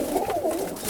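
Pigeons coo softly and steadily inside a pigeon loft during a winter storm, several low rolling calls overlapping at close range.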